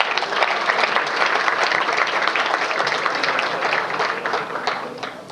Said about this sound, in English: Please give them a round of applause for everything that they do.